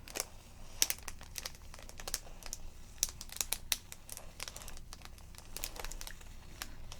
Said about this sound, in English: I'm always a little hit or miss on the crinkles, but we'll try to do some gentle ones here